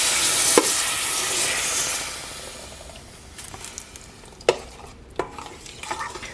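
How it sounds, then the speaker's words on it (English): A spoon stirs milk, flour and butter in an Aroma soup pot, a steady wet sizzling swish with a few soft clinks against the pot, close and without talk. "I just want to stir this around so that the flour and the butter and the milk combine"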